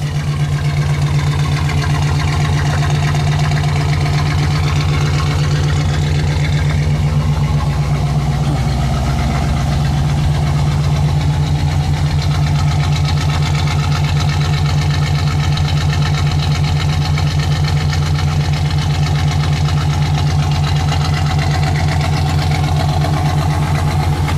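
A 1986 Chevy C10 pickup truck's dual exhaust idles steadily with a deep, loud, continuous rumble and no other sounds throughout.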